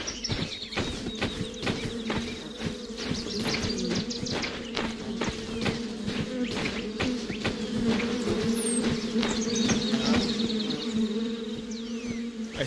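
Bees from a hive swarming in the video game The Vale, a dense, loud, continuous droning buzz close around the listener, with a sharp clicking rattle running through it.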